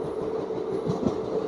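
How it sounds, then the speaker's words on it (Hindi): A train runs through Hazrat Nizamuddin railway station without stopping, a steady rumbling clatter of wheels on track heard from on board, continuous and fairly loud. "अभी हम अराइवल करने वाले हैं हज़रत निजामुद्दीन रेलवे स्टेशन को स्किप कर रहे हैं यहाँ पे"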